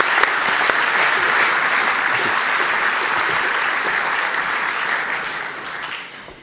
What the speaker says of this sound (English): both Heleen de Coninck and Ingrid Thijssen a very warm round of applause for an excellent discussion.